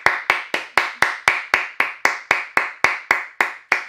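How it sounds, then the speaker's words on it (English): A single person clapping after a song, about fifteen sharp, evenly spaced claps at a steady rhythm, close and alone with no talk. "Let's give her a little round of applause."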